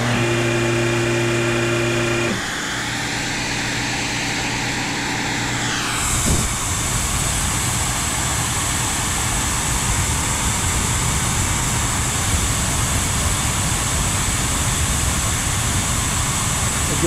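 Vehicle lift lowering a restored white 1957 Chevrolet Corvette with silver coves; a loud steady mechanical hum gives way after a few seconds to a continuous rushing hiss that runs throughout.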